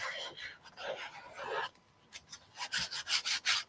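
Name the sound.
burnishing a stencil onto a canvas sign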